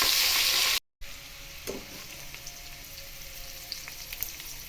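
Mustard seeds and cumin sizzle in two spoons of hot oil for a bread roll filling, a loud, dense crackle that cuts off abruptly and then continues as a softer, steady frying hiss with scattered pops.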